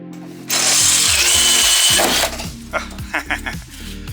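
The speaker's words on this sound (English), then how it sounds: "See what makes a difference when there's a drill that actually works?" A power drill spins up loudly for a sustained burst while drilling out a part on a rusty Porsche 928, then winds down, followed by a few short clicks and brief trigger pulses nearby.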